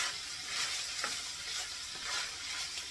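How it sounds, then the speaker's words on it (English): Potatoes and sausage fry in bacon grease and get mixed, giving a soft, steady sizzle with faint scraping strokes every half second or so, fairly quiet and close. "I'm going to put my potato in there. And mix that in with it."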